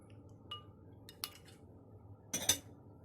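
A spoon stirs bagoong shrimp paste with water in a small bowl, giving a few faint scattered clinks and taps against the dish in a quiet room.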